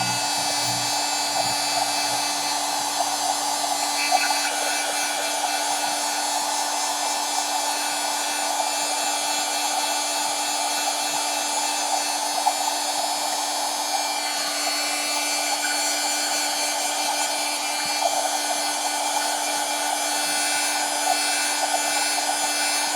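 A hair dryer runs steadily and close, drying a tag decorated with napkins and ephemera. The whirring blower hum stays even throughout, with slight shifts as it moves, and no one speaks.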